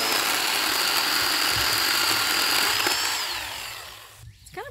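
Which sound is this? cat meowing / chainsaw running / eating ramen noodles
chainsaw running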